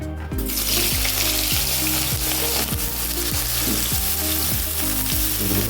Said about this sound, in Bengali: ওই হিট তেলে বেগুনগুলো ভেজে নেব প্রথমে বেগুনগুলো ভাজতে হবে